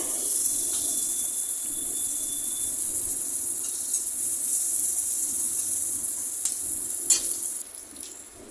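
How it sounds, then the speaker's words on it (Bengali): Chopped onions and green chillies frying in hot oil for a Bengali kochur loti dish, a steady close sizzle with faint clinks from stirring, running unbroken with no talk. "এইবার পেঁয়াজটাকে এইবার একটু লাল লাল করে ভেজে নেব"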